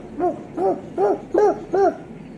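A voice imitates a dog barking, five evenly spaced woof-like calls in a quick, steady rhythm, close and clear.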